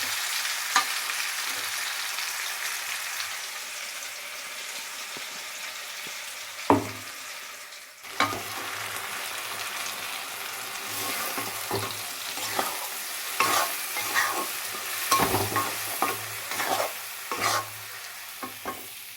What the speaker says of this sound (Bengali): এই দেখো আলুটা সেদ্ধ করা হয়ে গেছে, এবার ভেজে নিয়ে